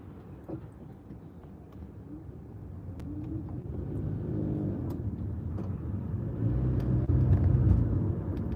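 Volvo XC40 driving along a road, its steady engine and tyre rumble building slowly in loudness across the stretch with a low drone underneath and no talk.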